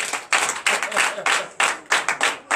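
A church congregation claps in bursts of applause during a Sunday service in Benin, with several distinct waves of hand claps close by, rising and falling rhythmically.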